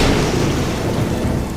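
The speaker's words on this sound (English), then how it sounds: "Look, another storm is coming." Storm rumble with thunder and strong wind, a loud continuous low roar filling the whole stretch without pause or speech.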